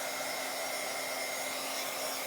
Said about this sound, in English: bring it to your hair dryer and, you know, give it a little dry